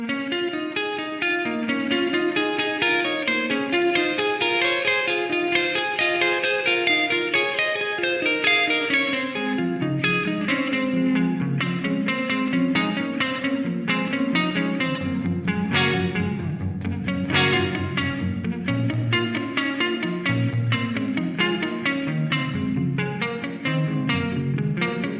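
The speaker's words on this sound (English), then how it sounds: "maybe it's looping delay or long delay because, it is a long delay" A Korg A3 effects processor set to a long looping delay of up to 1600 ms repeats layered tones in dense overlapping echoes, a continuous wash of cascading notes with no talking.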